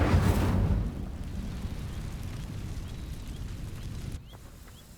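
Incendio fire spell in Hogwarts Legacy igniting dry vines: a loud, close burst of flame at the start, then a steady low crackling burn that drops away sharply near the end.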